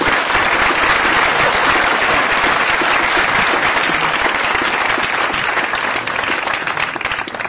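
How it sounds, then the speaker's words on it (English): A debate audience applauds the candidates after a corporation commissioner debate, with loud sustained clapping from a crowd that carries on throughout and thins slightly toward the end. "Let's give a round of applause to the candidates."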